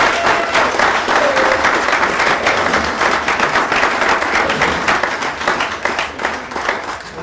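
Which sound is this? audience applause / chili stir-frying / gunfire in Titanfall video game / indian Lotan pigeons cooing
audience applause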